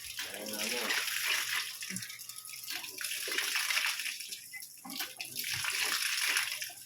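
Water runs steadily from a rural well in the provinces, a continuous close gushing and splashing stream, with a voice speaking briefly over it.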